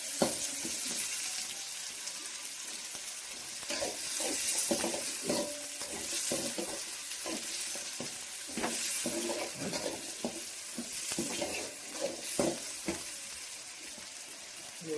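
Onion and tomato frying in oil until golden, a steady sizzle with repeated stirring scrapes and occasional clinks of a utensil against the pan, close and continuous.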